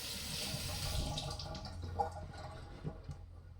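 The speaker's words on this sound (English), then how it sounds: "Give this stone a bit of a wash off again." Water runs from a tap to rinse an Australian natural whetstone, a steady splashing flow that eases off into a few drips and splashes near the end.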